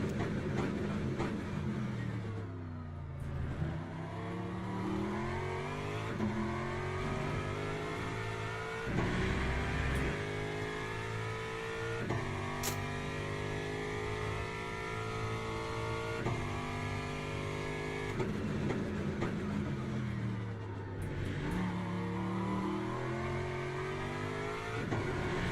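A V8 race car engine in Le Mans Ultimate roars down the straight, loud and continuous, with rising pitch through the gears and brief lifts at the shifts, no voices over it.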